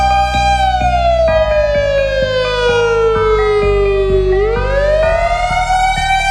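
WS3000R civil defense siren wailing loudly, its tone sliding steadily down in pitch then sweeping back up, a harsh layered electronic howl heard alone.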